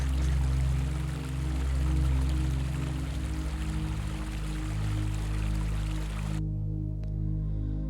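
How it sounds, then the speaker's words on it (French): Steady rushing, pouring water of a distant waterfall in an evoked Amazon rainforest, running continuously under a low musical drone before cutting off near the end. "Le grondement lointain d'une cascade."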